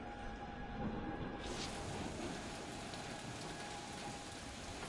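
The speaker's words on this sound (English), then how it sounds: "Peter Quill is dilly-dallying in the rain." Steady rain falls in the Guardians of the Galaxy video game, a dense even hiss that brightens and swells after the first second and continues unbroken, with a faint tonal hum beneath.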